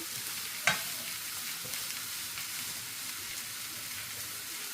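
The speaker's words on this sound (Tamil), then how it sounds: "நாங்கள் ஒரு அஞ்சு நிமிஷம் இதை நல்லா மிக்ஸ் பண்ணி கொடுப்போம்" Puttu kothu being stirred and fried in a pan, Sri Lankan home style, a quiet continuous sizzle with one sharp spatula knock early on and faint scraping, close and low in level.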